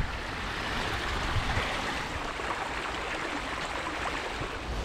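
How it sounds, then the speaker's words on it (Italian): Water rushes steadily along a flooded walking trail in the rain, a continuous broadband wash with no voices. "Stiamo praticamente risalendo un fiume."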